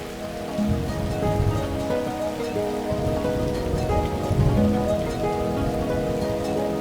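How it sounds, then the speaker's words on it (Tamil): Rain falls steadily outside, a dense continuous patter on surfaces with a low rumbling undertone, heard from indoors without any voices. "வெளியே மழை பெய்யுதில்ல"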